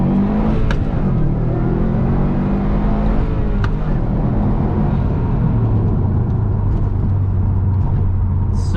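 2019 Subaru WRX STI Type RA accelerating, a loud, continuous engine rumble heard from inside the car with pitch rising through the gears, broken by a brief shift before climbing again, no talking over it.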